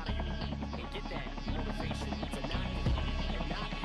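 A helicopter in a multiplayer video game gives off a steady whirring, pulsing rotor hum that stays constant and fairly loud throughout, with no speech over it.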